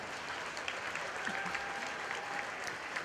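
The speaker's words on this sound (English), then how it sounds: "Let's give these folks a nice round of applause in this class" Steady audience applause fills a 4-H and FFA market hog show at the Lawrence County Fair, dense clapping sustained throughout with faint crowd murmur beneath.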